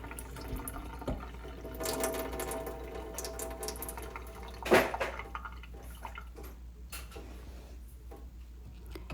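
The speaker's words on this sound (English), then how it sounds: "now you want to turn on the faucet to let all the water out of your pipes" Water runs faintly from an opened kitchen faucet during a faucet replacement, a soft steady wash with scattered small drips and ticks, quiet and without speech.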